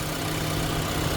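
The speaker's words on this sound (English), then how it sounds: "this is the engine. You can hear it. It's not running. It's running pretty smooth." A 2024 Toyota Grand Highlander's four-cylinder turbo engine idles smoothly, giving a close, steady, even hum with a low drone throughout and no speech.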